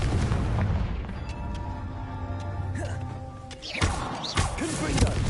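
Blasting-curse explosions from the Hogwarts Legacy video game go off as a string of booming thumps and crashes over dense game music and ambience, with sharper bursts near the end.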